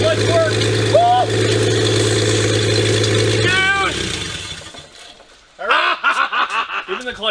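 An old car engine runs loudly and steadily after the clutch engages, then drops away before a burst of excited voices and laughter takes over near the end.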